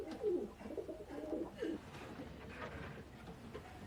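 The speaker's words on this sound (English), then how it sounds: "It's a racing pigeon." A racing pigeon coos close by, a series of soft, low rolling coos in quick succession, fading into faint ambient noise.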